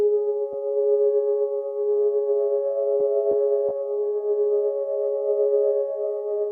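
A sustained "Lush Desert Pad" synthesizer preset holds smooth, layered chord tones, steady and even, with a few faint clicks along the way.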